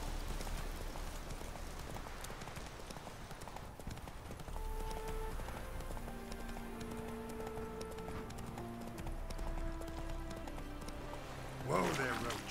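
Hooves of the horse Roach in The Witcher 3 video game, a steady clip-clop gallop running through the whole passage under orchestral game music, with someone speaking over it.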